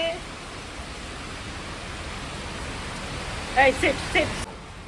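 Steady, fairly faint rain hiss at night in Guwahati fills the whole stretch, with a few brief voice-like bursts rising near the end before it drops quieter.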